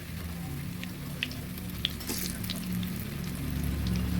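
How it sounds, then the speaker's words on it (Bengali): Atta-and-potato pakoras frying in oil produce a soft, steady sizzle over a low hum, with a few faint crackles and ticks, quiet and continuous without any talking. "লাল লাল করে ভেজে তুলে নিচ্ছি"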